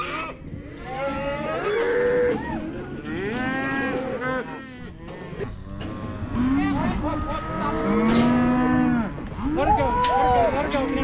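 Cattle and calves mooing in a field, a steady chorus of long, loud bellowing calls overlapping one another close by.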